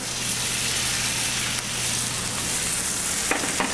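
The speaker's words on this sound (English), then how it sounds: "You want to hear that sizzle when it goes into the pan." A steady, loud sizzle of beef searing in a hot oiled pan, continuous broadband hiss with a low hum underneath and a few small clinks near the end.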